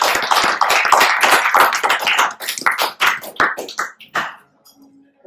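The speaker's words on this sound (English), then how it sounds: "Her efforts deserve our recognition and a warm round of applause." An audience at a book launch applauds in a dense burst of clapping that thins out into scattered individual claps and fades to near silence.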